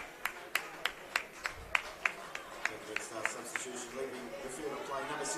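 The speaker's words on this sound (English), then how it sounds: "Healing comes off to a round of applause" Scattered claps ring out at a men's NPL grand final soccer match between Floreat Athena FC and Perth Redstar FC as a substituted player leaves the pitch, a dozen or so distinct claps over a steady stadium murmur.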